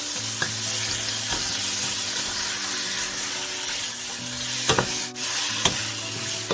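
Steady sizzling of chicken and garlic stir-frying in a hot wok, with occasional scraping and clanks of stirring.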